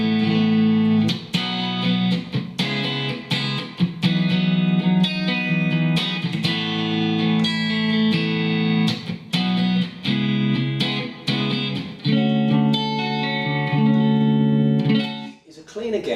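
Electric guitar played through a Marshall Code amp on its JTM Chill clean preset: ringing chords and picked notes with clear harmonic sustain, strummed in a steady rhythm, close and loud, with no talking over it.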